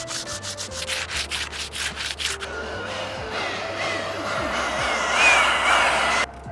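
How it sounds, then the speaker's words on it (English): Steady abrasive sanding against a Bondo-patched concrete crack, loud and close, continuous for several seconds with an earlier stretch of choppy, rhythmic rubbing strokes. "I'm just sanding the whole thing for consistency purposes,"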